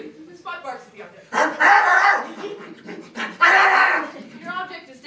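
A speech-competition performer vocally imitates a dog, with panting, whimpering yips and two loud bark-like bursts, close and dominant, amid spoken lines.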